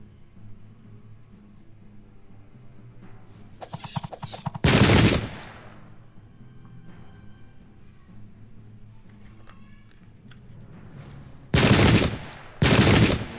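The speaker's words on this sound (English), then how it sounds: "Wow, amazing reactionary fire." Volleys of gunfire from the Pike and Shot Campaigns wargame during Custer's Last Stand: faint scattered shots beneath a low game soundscape, then three loud, dense bursts of rapid reactionary musket and rifle fire, one near the start and two close together at the end.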